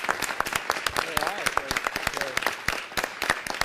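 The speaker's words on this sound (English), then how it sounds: "we should give them a great round of applause because they do a great job" A city council meeting audience gives a round of applause, dense, lively clapping from many people close by, with a few voices mixed in underneath.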